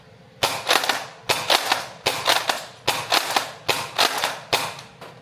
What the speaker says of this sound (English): Let's just go for the target and just let it rip.